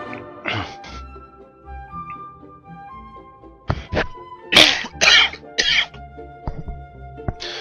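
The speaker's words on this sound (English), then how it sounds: "And sorry if I cough a lot" Several short, harsh coughs and throat-clearing bursts from a person with something stuck in the throat, close and fairly loud, spaced irregularly over quiet game music.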